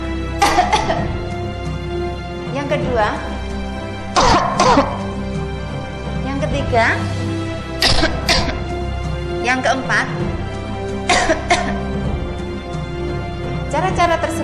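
A speaker demonstrates several wrong ways of coughing, a series of forceful coughs and throat clearings repeated in bursts between short spoken lines.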